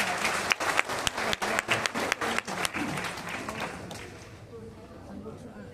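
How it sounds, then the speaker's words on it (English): Audience applause at a health summit, a burst of sharp, close claps with a few distinct loud hand slaps, fading out over the last couple of seconds. "can you give yourself a round of applause?"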